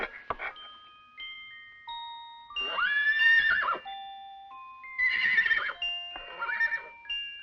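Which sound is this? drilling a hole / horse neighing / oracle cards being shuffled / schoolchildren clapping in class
horse neighing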